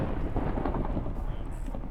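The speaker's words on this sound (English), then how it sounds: "Man, mods ban that lightning." Thunder from lightning in a video game, a dense low rumble that rolls steadily for about two seconds with no break.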